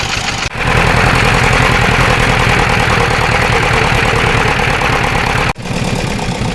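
A tractor engine runs steadily and loud at close range on a trip to the forest after rain, a continuous low idling drone with a brief dip near the start and another near the end.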